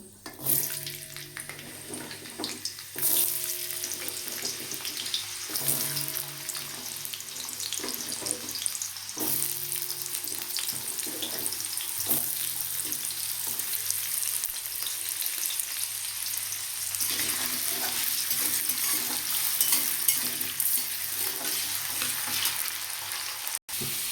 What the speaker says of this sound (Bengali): এবার এর মধ্যে আলুগুলো ভেজে নেব।